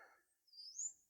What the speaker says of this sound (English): You can hear the birds chirping away.